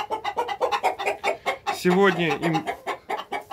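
Sleepy chicks sick with mycoplasmosis peep in a steady run of short, rapid calls close by, while a person speaks briefly over them midway.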